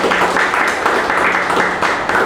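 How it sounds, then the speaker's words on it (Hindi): An open-mic audience in Mumbai bursts into loud, dense clapping for farmers, a brief wash of many hands together with a few voices mixed in. "मैं चाहता हूं कि मदर्स डे पर किसान भाइयों के लिए एक बार जोरदार तालियां होनी चाहिए"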